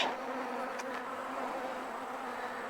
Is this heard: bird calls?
no